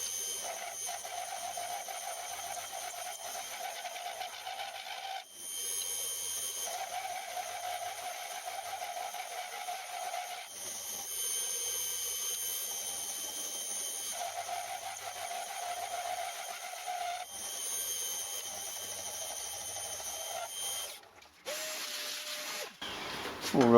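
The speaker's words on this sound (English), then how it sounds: "time to finish milling that across the other side" A milling machine cuts metal for a homemade rotary table with a steady, even whine under a faint hiss, broken by several short pauses between passes and a few brief clunks near the end.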